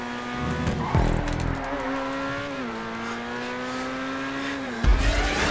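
A car in GTA 5 Online brakes hard with a long tire squeal, a sustained wavering screech over engine drone that bends in pitch, framed by bursts of engine revving at the start and end.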